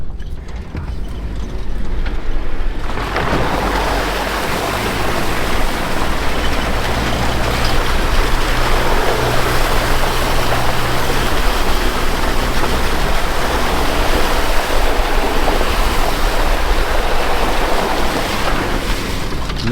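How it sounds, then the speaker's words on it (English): An off-road vehicle with tuned, valved shocks splashes through water: a loud, continuous rushing surge of churned water with a low mechanical hum underneath, steady for most of the stretch after a quieter opening. "we could splash through the water"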